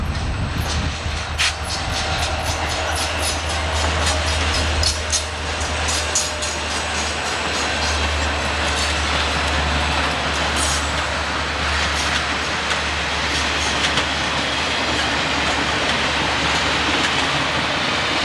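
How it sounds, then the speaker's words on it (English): A D&H freight train rolls steadily through Belt Jct., its rumbling engine and clattering wagons loud and continuous throughout with rhythmic wheel clicks, and no one talking. "Another D&H train runs through Belt Jct."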